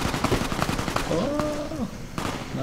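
Gunfire in Fallout: New Vegas, a rapid scatter of sharp shots cracking close together over a couple of seconds, mixed with other game sounds and brief voices.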